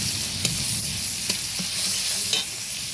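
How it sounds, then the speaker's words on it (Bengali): Onion, tomato and garlic paste fry in oil left from frying egg, a steady close sizzle with occasional sharp scrapes of stirring in the pan and no talking. "ডিম ভাজার পরে তাতে দিয়েছি পেঁয়াজ আর টমেটোটা ভেজে নেবো। এদের সঙ্গে দিয়ে দেবো রসুন বাটা"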